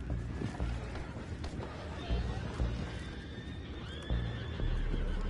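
Horses in the video game Red Dead Redemption 2 whinny and neigh several times over galloping hoofbeats and a busy, noisy outdoor scene, with the calls loud and near.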